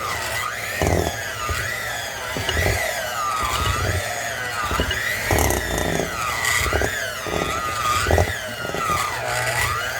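An electric hand mixer whirs steadily through thick cookie dough, its motor pitch wavering as the beaters churn, continuous and close for the full stretch with no talking.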